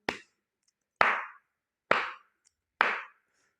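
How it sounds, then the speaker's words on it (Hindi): Four crisp hand claps sound alone, loud and close, evenly spaced about a second apart to keep time for a song, with silence between them. "ताली से सुन लीजिए"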